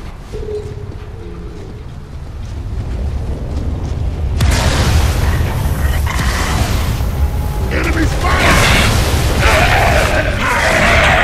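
Heavy gunfire and booming explosions from enemies in the video game Gears of War 3 erupt suddenly and loudly after a quieter opening, then stay dense and continuous, with game voices mixed in.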